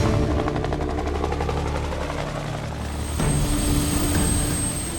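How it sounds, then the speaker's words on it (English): A Russian Hind combat helicopter drones steadily with a dense engine and rotor roar, loud and continuous throughout, shifting slightly in tone partway through. "JT, aka Ivan, will be joining the fray in a Russian combat helicopter called the Hind."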